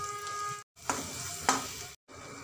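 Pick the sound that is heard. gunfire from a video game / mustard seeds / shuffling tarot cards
mustard seeds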